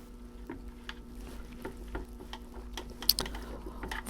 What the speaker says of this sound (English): we're just firing in that bamboo skewer or wooden skewer into the mix just to jiggle out the soil